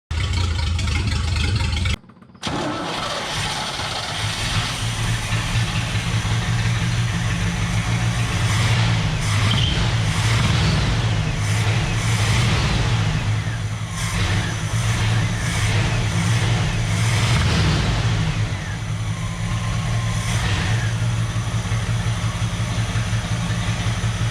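A 1976 Chevrolet Scottsdale K20 4x4 pickup, left abandoned for 20 years, runs steadily after a brief cut near the start, with a rough, rumbling idle and bursts of revving close by.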